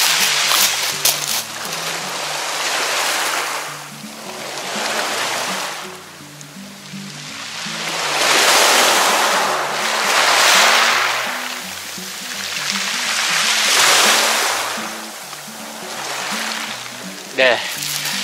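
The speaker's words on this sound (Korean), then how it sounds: "파도 소리 한번 들어볼까요?" Broad surf washes in repeated swelling surges roughly every few seconds at a beach in Geoje, South Korea, waves rolling and breaking nearby with a steady hiss between crests; a low hum runs underneath.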